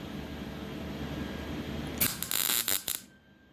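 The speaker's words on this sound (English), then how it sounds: "we're just literally going to throw a tack on that with the MIG welder" A MIG welder tacks a steel tab on a slider body mount, giving a short burst of crackling, sputtering arc noise about two seconds in after a steady low hum. The sound is close and fairly loud, with no speech.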